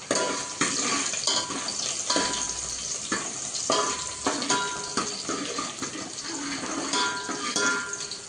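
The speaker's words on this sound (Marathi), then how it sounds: "थोडासा लाल होईपर्यंत परतू द्या." Onions fry in a pan until slightly browned, giving a steady close sizzle and crackle with occasional stirring scrapes.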